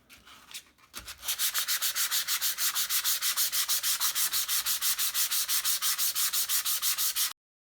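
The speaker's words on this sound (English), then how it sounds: "we've sanded most of that darker stain off now" Sanding stain off a semi-hollow body guitar kit body with 240 grit sandpaper: after a few scrapes, a fast, steady back-and-forth rasping rhythm rings out up close, then stops abruptly.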